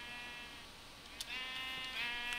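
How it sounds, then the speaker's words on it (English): Sheep in the Minecraft video game bleat in a steady, near stream of synthetic baa calls, with a short click partway through and no talking. "Natural pink sheep."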